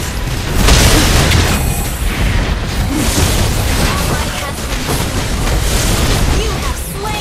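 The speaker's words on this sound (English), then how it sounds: "Destroyed a turret!" A turret being destroyed in the Mobile Legends: Bang Bang video game brings a loud, dense, sustained explosive rumble with crackling bursts that fills the whole stretch.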